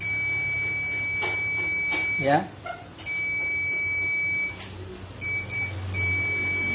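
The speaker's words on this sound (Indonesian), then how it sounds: "buzzer modul Protect." Amplifier protection module buzzer on a powered PSU sounds as a steady high-pitched electronic tone in repeated bursts with short gaps, close and clear, with a brief spoken word in one gap.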